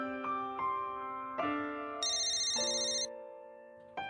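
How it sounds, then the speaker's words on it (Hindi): A mobile phone ringtone plays a melodic sequence of bright electronic tones, several notes rising and stepping, clear and alone without talk. "मेरा फोन बज रहा है"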